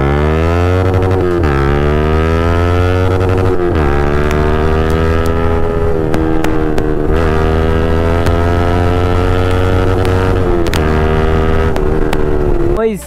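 A KTM RC 390 motorcycle engine idles and revs loudly and close by through its exhaust, with rising and falling revs and a steady drone throughout.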